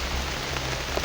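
Steady rain falls, making a dense, even patter on surfaces close by with no other sounds standing out.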